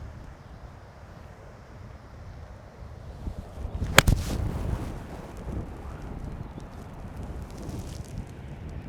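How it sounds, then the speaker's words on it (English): Strong wind gusts across a golf course, making a continuous low rumbling buffet with a louder gust and a sharp knock near the middle, with no speech over it. "It has become very windy out here in the last few minutes."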